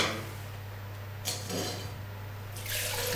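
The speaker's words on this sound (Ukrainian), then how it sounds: "Треба води налити однакову кількість." Water is poured into a 0.6 litre food tray in two short splashing bursts, with a quiet steady hum between them.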